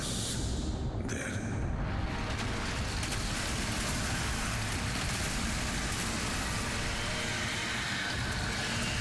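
Steady rain pours down in the Warframe video game setting of Fornax, a dense, continuous hiss with a brief softer patch near the start and no voices on top.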